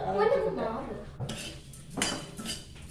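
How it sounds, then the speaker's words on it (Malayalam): Ingredients roasting in a pan with a little coconut oil for chutney powder, heard as a few close metallic clinks and scrapes of a utensil stirring against the pan, fairly quiet. "ലേശം എണ്ണ കൂടെ ചേർത്ത് വറുക്കാം"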